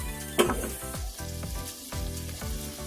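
Buttered garlic shrimp sizzle and fry in a pan while being stirred, with steady crackling throughout and a few scraping stirs.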